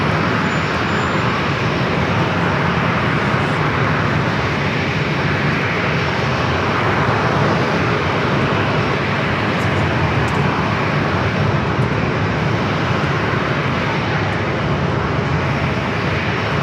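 Airliner jet engines roar steadily at San Diego airport, a loud, continuous broadband rumble and whoosh that holds without a break and with no voices.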